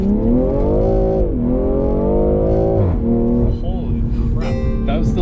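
BMW G80 M3 launching hard with launch control, a loud sustained engine roar rising in pitch through the gears with a brief shift dip, voices talking over it inside the cabin.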